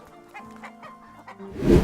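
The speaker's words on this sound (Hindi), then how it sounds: "अगले दिन छोटे मियाँ और बड़े मियाँ ने मुर्गियों का पोल्ट्री फार्म डाला।" Chickens clucking close by, a few short soft clucks followed by a louder flurry at the end.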